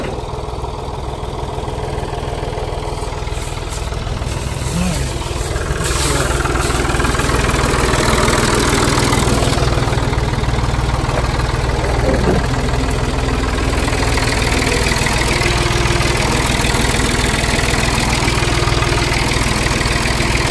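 A Chevrolet C10 truck engine runs steadily and loudly close up for the whole stretch, a continuous mid-pitched idle with a slight knocking texture and no break.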